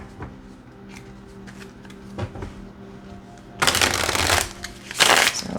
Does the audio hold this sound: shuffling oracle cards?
yes